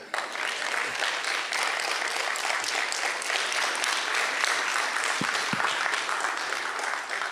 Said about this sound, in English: You didn't clap very well.